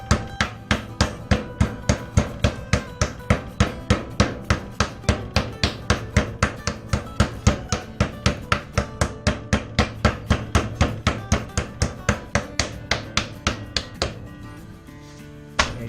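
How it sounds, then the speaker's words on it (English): A meat mallet pounds a pork loin flat in a home kitchen, landing as a long, steady run of loud, close thuds at about three blows per second, then trailing off at the end. "when you're pounding, you try to go away from your meat, around the edges"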